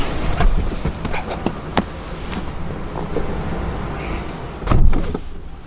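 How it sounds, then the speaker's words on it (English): Power windows on a 2018 Audi A5 Sportback, heard as a soft electric motor whir running up and down with a few clicks and a louder thump near the end, close by and without talk. "fully automatic windows"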